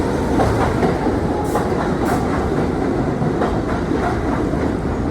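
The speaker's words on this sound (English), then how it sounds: "here's a train coming in" A subway train rolls into a station with steady clickety-clack of wheels on rails, loud and continuous rumble throughout, no voices.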